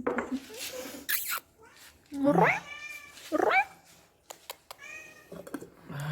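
A small cat meows several times, rising and falling cries alone or with soft murmured talk between them, close and fairly loud, in a workshop where a sailboat rudder is being built with resin.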